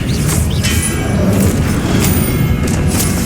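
Confringo blasting spell explosion in the Hogwarts Legacy video game, a dense, sustained low rumbling boom with crashing texture running steadily for the whole stretch, loud and close with no talk over it.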